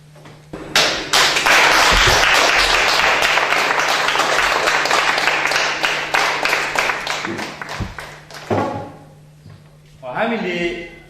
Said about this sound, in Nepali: तपाईँहरू सबैजनाले ताली बजाएर स्वागत गर्नुहुन्छ।